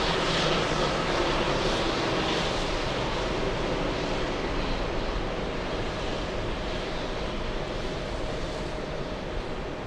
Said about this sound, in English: 747 is lining up